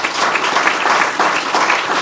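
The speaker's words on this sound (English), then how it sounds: "big round of applause for my staff" A crowd at a charity tournament check presentation applauds the event staff, steady, dense clapping that fills the room evenly throughout, with no voices on top.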